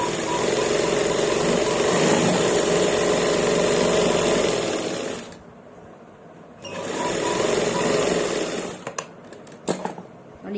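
A sewing machine runs steadily while stitching salwar fabric, its close mechanical hum pausing for about a second before starting again, then stopping and giving way to a few sharp clicks and handling knocks.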